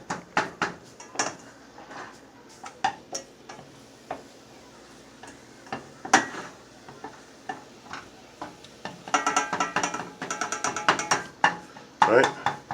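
Eggs being mixed with ground sage in a bowl, with quick light clicks and taps of a utensil against the dish, sparse at first then a dense rapid run of stirring, close by, with someone talking in between.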